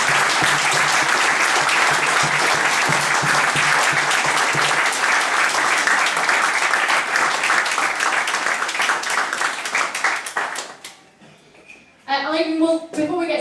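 An audience greets a speedway champion with sustained applause at a Q&A event, dense clapping that thins and fades near the end before a voice begins speaking over the quiet room.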